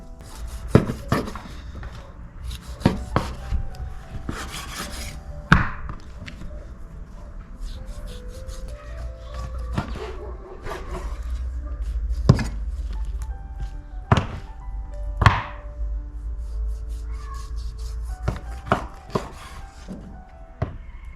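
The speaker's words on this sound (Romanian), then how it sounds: "Acum ne apucăm să le tăiem, să le preparăm" Knife chopping through pork ribs on a board, irregular sharp thuds and taps spaced a few seconds apart over a low background hum, no speech.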